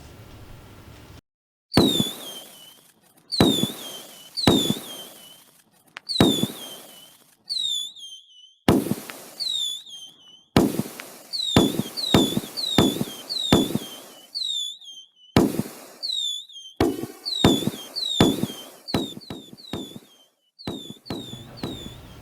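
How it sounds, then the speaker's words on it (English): Fireworks exploding in the click-to-launch video game Fireworks, a long series of sharp digital bursts with descending whistles, some single and some in rapid clusters, each followed by a short crackling tail. "Fireworks is a simple, fun game where you can click on your screen and fireworks appear."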